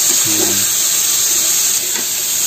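Potatoes and onions frying together in a pan give a steady, loud sizzling hiss that runs unbroken throughout, with a faint murmur briefly underneath.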